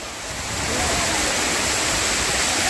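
Fast-flowing stream water rushing close by, a loud broadband roar that swells in over the first second and then holds steady.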